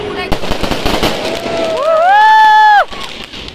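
Diwali firecrackers pop and crackle in a dense burst under voices, then a rising whistling tone of a sky shot rocket soars for about a second before cutting off.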